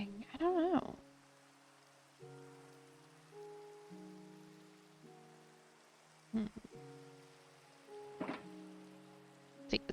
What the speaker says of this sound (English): it's always raining on the server